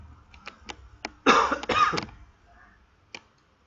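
A few short, sharp coughs close by, then a harsher, louder bout of coughing and throat clearing, followed by one more faint cough.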